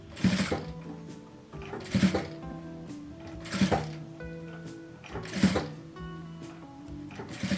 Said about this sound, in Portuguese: Então, coloco a agulha lá dentro e vou costurando.